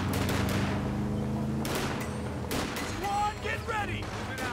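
Gunfire and explosions crackle and boom in the World War II strategy game Company of Heroes 2 on a Port of Hamburg map, dense and continuous beneath shouted soldier voice lines.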